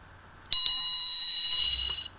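An ARP Smarthorn electronic bicycle bell sounds one loud, sustained, bright ringing tone for about a second and a half, then cuts off. Very close and alone, with no talking.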